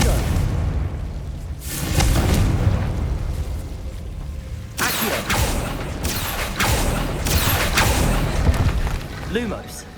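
The Confringo blasting spell in Hogwarts Legacy hits with a sudden loud burst halfway through, followed by a run of crackling impacts and whooshes over steady game noise.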